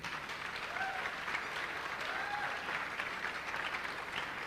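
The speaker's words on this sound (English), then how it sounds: "If you're in agreement with what I just said, a round of applause for yourself." Applause from an audience at the Innovate 24 event, a dense steady wash of many hands clapping throughout, fairly loud and continuous with crowd noise mixed in.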